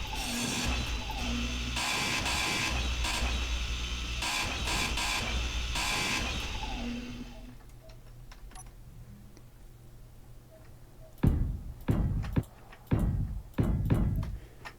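Blocks are ground down with a grinder tool in the space-building game Space Engineers, giving a loud, continuous mechanical whir that cuts off partway, followed by a few sharp clicks and knocks.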